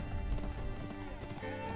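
A horse in a video game clops along with steady hoofbeats over a thick, busy game soundscape, moderately loud and continuous for under two seconds.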